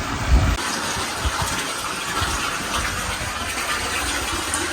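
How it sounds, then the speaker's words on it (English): Water gushing steadily into a tank in Thailand, a continuous broadband rush with a faint low mechanical hum underneath, close and unbroken for several seconds. "and the filling of water."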